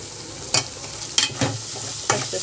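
Ivy gourd curry with turmeric being stirred in a frying pan over low heat without water, about four distinct spatula scrapes over a faint background sizzle, close and quiet.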